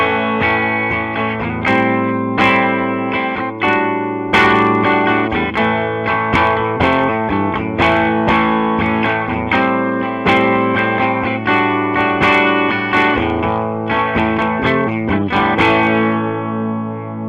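Clean Les Paul chords through a Peavey Transtube amp on vintage voicing with T-Dynamics at full, strummed loud and steady with ringing sustained harmonics, no voices.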